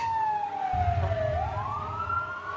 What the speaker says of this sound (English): there's a fire truck and sirens and so forth